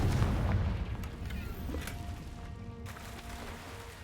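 Confringo blasting spell in Hogwarts Legacy, a deep booming explosion at the start that rumbles and decays, followed by smaller cracking pops and a brief sharp burst near the end.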